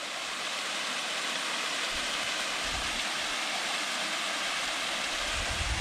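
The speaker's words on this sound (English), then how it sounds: "This is what we're hearing. I don't know if you'd count this as a waterfall, but I will." Small waterfall cascading beside a creek on a woodland trail, a steady close rush of falling water with a constant broadband hiss and no voices.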